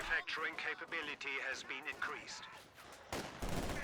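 Heavy bursts of DShK machine gun fire in a Company of Heroes 2 battle against a captured MG42, rattling under continuous fast commentary, with a louder, denser burst near the end.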